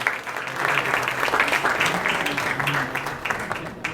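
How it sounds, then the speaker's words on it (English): Sustained audience applause greets the chief guest, Salman Khan, at the Asha Parekh book launch, a dense, steady wash of many hands clapping that holds at an even level for several seconds. "A big round of applause for him."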